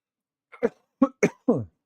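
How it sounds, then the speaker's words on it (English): A few sharp coughs close up from a tickle in the throat, four short bursts with brief gaps, the last one rougher and slightly drawn out like clearing the throat. "Sorry, I will cough, little tickle in the throat there."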